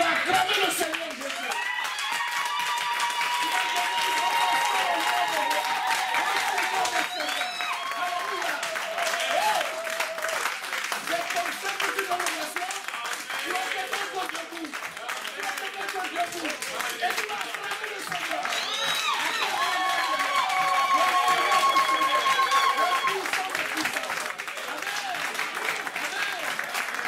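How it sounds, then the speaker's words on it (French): Sustained applause and clapping from a church congregation acclaiming Jesus during a worship service, loud and continuous with cheering voices and talk mixed through, swelling again toward the end. "Tu vas acclamer le Seigneur Jésus."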